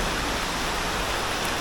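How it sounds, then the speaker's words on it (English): Dense, steady hiss of rain pattering on foliage, even and continuous with no voices. "I hear the rain hitting the leaves"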